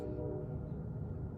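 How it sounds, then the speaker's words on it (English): A train rumbles past near the Bingaman Street Bridge and Laurel Street in Reading, Pennsylvania, a steady, heavy low roar that fills the whole moment without a break. "That's a train."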